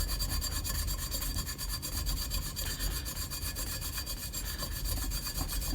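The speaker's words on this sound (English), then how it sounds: "I just hit this with a little bit of steel wool." Steel wool scrubs rust off a chrome wheel rim in quick, steady back-and-forth strokes, a close, rhythmic abrasive rasping that continues without a break.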